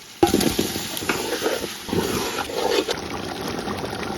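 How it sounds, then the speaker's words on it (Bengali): Potatoes and meat going into a pan of frying spice paste for bhuna khichuri, with a sudden loud sizzling burst followed by continuous crackling and stirring, close and steady. "মশলাটা কষানো হয়ে গেছে, এখন আমরা আলু আর মাংসটা দিয়ে দেবো।"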